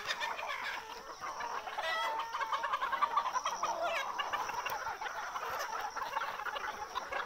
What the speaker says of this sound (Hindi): दोस्तों ये मुर्गे मुर्गियाँ सब 6 महीने हो गई हैं